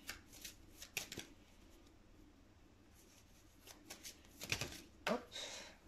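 Playing cards shuffled for a general professional tarot-style card reading, with soft riffling and rubbing bursts at intervals, near and fairly quiet, with brief pauses between shuffles.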